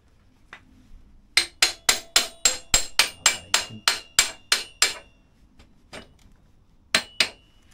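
A bolt is tapped through the rear wheel of a Honda NC750X motorcycle with a string of about a dozen sharp, evenly spaced metallic knocks, then a pause and a few more strikes, loud and close.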